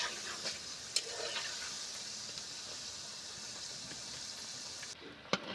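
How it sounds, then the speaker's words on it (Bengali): Nimki, crisp flaky fried dough snacks, frying in hot oil as they are turned, giving a steady soft sizzle with a couple of sharp clicks from the utensil against the pan. "উল্টে উল্টে ভালো করে মুচমুচে করে আমি ভেজে নেবো নিমকিগুলো"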